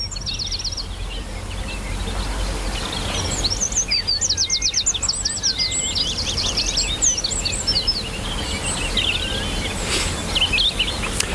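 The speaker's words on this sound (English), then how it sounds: "I'm going to shut up for a minute and just let you hear the bird song around me" Birdsong fills an Irish woodland, several birds trilling and chirping in quick repeated phrases at mid distance, with faint insect hum and a soft background hush and no talking.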